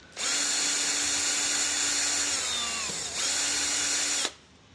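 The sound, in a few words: power drill removing fender screws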